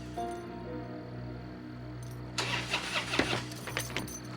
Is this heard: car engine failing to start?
yes